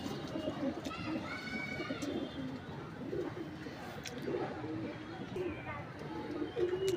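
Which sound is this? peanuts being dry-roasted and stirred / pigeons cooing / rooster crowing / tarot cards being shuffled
pigeons cooing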